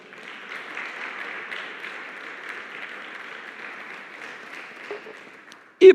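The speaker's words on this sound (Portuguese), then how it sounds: "Vamos dar uma salva de palmas ao Senhor?" Church congregation applauding during a sermon, a soft, moderately distant patter of clapping that holds steady, then fades, ending with a sharp loud knock.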